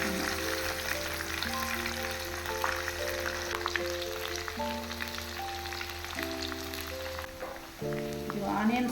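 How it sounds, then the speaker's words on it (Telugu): Chopped onions frying in hot oil for Hyderabadi bagara baingan, a steady close crackling sizzle running throughout under background music with a brief louder clatter near the end. "ఇదే నూనెలో కట్ చేసి పెట్టుకున్న ఆనియన్స్ ఫ్రై చేసుకుందాం."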